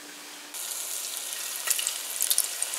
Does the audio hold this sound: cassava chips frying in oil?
yes